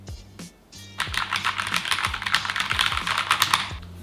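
A new Keychron K2 keyboard is typed on in a quick, steady patter of crisp key clicks after a brief pause, close and clear with no talking.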